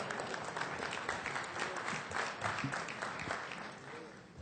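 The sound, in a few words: audience applause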